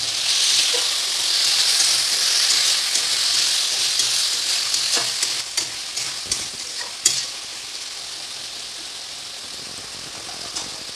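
Jackfruit pieces fry with salt and turmeric in a pan, a bright continuous sizzle with repeated scraping and stirring knocks that grow more sparse toward the end; nobody speaks.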